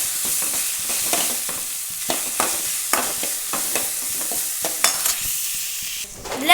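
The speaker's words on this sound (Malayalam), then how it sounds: "ഉള്ളിയും കൂടി ഇട്ടിട്ട് ഇടയ്ക്കിടയ്ക്ക് ഇളക്കി കൊടുക്കുക." Onions and salt frying in a pan while being stirred at intervals, with a steady bright sizzle broken by repeated scraping strokes of the spoon, close and fairly loud, and no talking.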